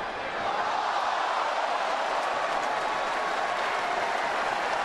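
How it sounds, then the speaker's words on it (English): Crowd applause at a Major League baseball game (Charlotte at Atlanta, June 2012) after a fan in the stands catches a foul ball; a steady, dense wash of clapping and crowd noise from a big ballpark audience that holds through the clip. "gets a round of applause"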